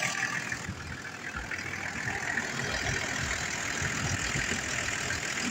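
An abandoned Toyota LandCruiser engine idles steadily and fairly loud, a continuous low rumble with a faint knocking texture running the whole way through, and no voices.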